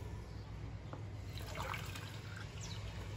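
Alcohol vinegar, 90 ml, poured for a homemade disinfectant: a steady, close trickle of liquid splashing into a container for a few seconds, with no talking.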